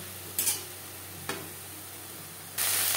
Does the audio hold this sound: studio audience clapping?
no